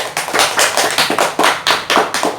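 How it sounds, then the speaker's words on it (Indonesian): A small class applauds a student's cell structure and function presentation with rhythmic, close-up clapping in steady bursts, roughly even and lively, with no talking over it. "Beri aplaus untuk Mbak Jihan."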